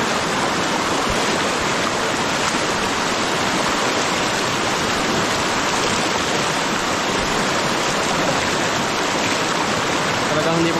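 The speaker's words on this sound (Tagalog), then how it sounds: "Malaki po itong ilog ito eh." A large river rushes past at close range, a loud, dense and unbroken roar of churning water that fills the whole clip.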